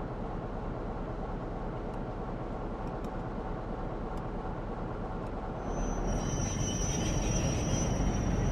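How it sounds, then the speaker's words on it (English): Train passing in the Train Sim World 4 game on the Preston to Blackpool and Ormskirk line, a steady loud rumble of wheels and engine that swells louder near the end, with faint high squeals. "Where did that bloody train come from?"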